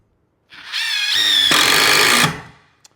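A DeWalt Atomic impact driver whirs up loud and close, then breaks into a rapid, harsh hammering as it drives a screw for under two seconds before spinning down and stopping.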